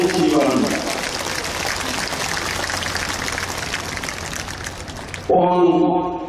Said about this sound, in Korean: 우리 큰 박수로 환영해 주시기 바랍니다.